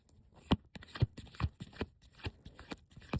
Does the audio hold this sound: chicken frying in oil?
no